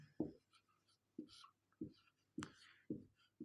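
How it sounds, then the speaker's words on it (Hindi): Pen or marker writing an example English grammar sentence, with five separate scratchy strokes spaced about half a second apart, close and fairly faint, no talking. "अब जैसे मैं आपके सामने एग्जाम्पल लिखता हूं"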